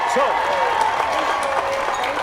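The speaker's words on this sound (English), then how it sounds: "A round of applause, everybody." An audience gives steady applause to welcome a guest onto a talk show, with cheering and voices blended into the continuous clapping.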